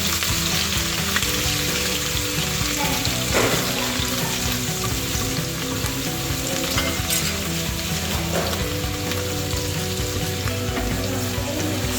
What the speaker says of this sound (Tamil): லைட்டாக அந்த சூடாக இருக்கிற நெய்யில் பைனாப்பிளை லைட்டாக அப்படியே போட்டு ஒரு ஃப்ரை பண்ணிக்கலாம்